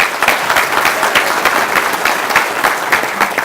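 Loud, dense applause from a luncheon audience at the Little Rock Touchdown Club, welcoming Arkansas State System President Dr. Chuck Welch, steady sharp claps sustained throughout without speech.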